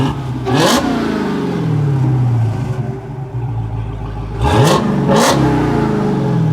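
A cold Dodge Challenger SRT Hellcat engine idles with a deep rumble and is blipped three times, one sharp rev early and two close together near the end, each rising and falling quickly, loud and close.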